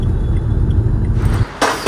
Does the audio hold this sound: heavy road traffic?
yes